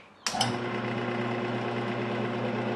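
A lathe switched on to spin an eccentric spindle set about an eighth of an inch off center at roughly 850 rpm: a sharp start-up clunk, then a steady, close, buzzing motor whir with a droning hum.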